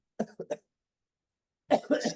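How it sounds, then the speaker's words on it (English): A short burst of three quick coughs, close and fairly loud, then silence before a longer throaty cough fit. "we're in the midst of a cough battle"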